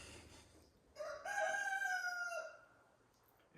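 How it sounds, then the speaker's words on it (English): A single rooster crows outdoors, one drawn-out cock-a-doodle-doo lasting over a second, moderately distant and fairly faint over quiet background noise. "If you hear roosters crowing"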